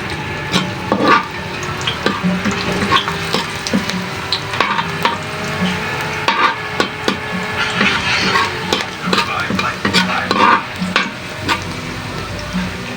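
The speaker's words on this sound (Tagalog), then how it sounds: "Nagpainit na ako ng mantika. Mag-isa na tayo. Unahin natin yung bawang." Garlic sizzles and crackles in hot oil while a utensil scrapes and stirs the pan repeatedly, close and steady.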